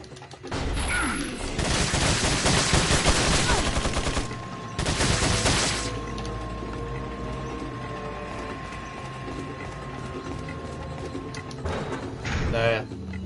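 Bursts of gunfire and mechanical weapon clatter in Resident Evil 4 (Assignment Ada) on PS4, loudest in the first six seconds, followed by quieter game sounds, with someone talking at points.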